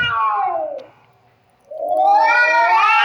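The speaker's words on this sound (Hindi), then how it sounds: "घर के सन्नाटे में बिल्ली और बिल्ली के बच्चों की आवाज़ बहुत जहर लग रही थी।" A cat gives two long, drawn-out meows separated by a brief silence, close and loud, the second rising into a wavering caterwaul.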